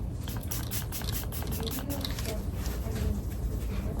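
A few quick spritzes of setting spray mist onto a face in a bathroom or vanity setting, soft hissing bursts close to the microphone, with faint speech-like sounds underneath.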